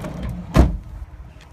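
A single solid thud as the back doors of a Ford Transit Connect Limited L1 van swing shut, close and fairly loud, with faint rustling before and after.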